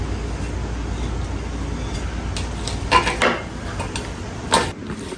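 Seasoned chicken pieces being mixed with spices in a bowl, heard as soft wet rubbing with a few clinks and knocks against the bowl, fairly close.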